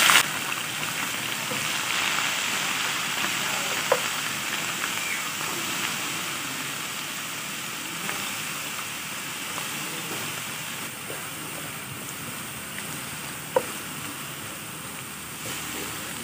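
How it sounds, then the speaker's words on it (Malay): Onions and dried anchovies sautéing in hot oil, a soft, even hiss and crackle close by that lasts throughout, with a few faint clicks and no voices. "Mula-mula kita akan tumiskan bawang kita dulu."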